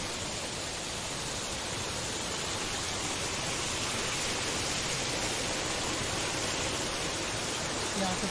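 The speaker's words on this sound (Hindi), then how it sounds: "यहाँ से पानी बहता हुआ" Water rushes beneath the living double-decker root bridge in Meghalaya, a loud, dense, unbroken roar of flowing stream that fills the whole stretch.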